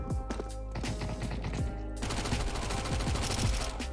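Gunfire in the video game Counter-Strike 2, a rapid string of loud close shots with dense repeated cracks, slightly heavier after a short shift midway, filling the whole stretch.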